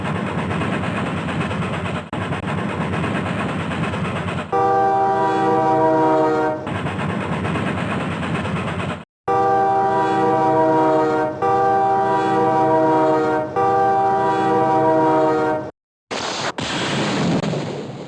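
A train rolls through a 1993 SimCity game on PC/DOS as railroad track is built, with loud synthesized horn blasts and steady rumbling carriage noise in repeated bursts separated by brief gaps, no talking.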